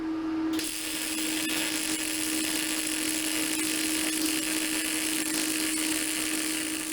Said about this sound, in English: I'm using a Miller welder, and I am using shielding gas.